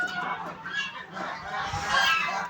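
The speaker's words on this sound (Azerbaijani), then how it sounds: "Xınalı çəklik. 8 dənədir, 8'i də fərədir." A group of chukar partridges cackles and chatters continuously at close range, a busy overlapping chorus of rasping calls.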